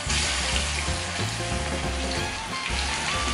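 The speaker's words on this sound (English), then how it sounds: "Simply throw them into the frying oil, and that's pretty much the sound you want to hear." Steady, dense sizzling and crackling of spaghetti balls deep-frying in hot oil, loud and close, continuing without pause.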